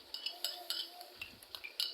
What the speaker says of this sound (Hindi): दही को अच्छे से फेंट लेना है।